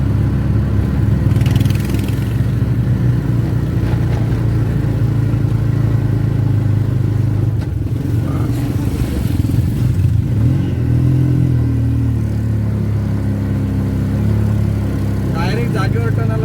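An auto rickshaw grinds up a hilly ghat road in second gear on a rainy monsoon run from Thane to Mahad, its small engine droning steadily and close throughout while people talk over it.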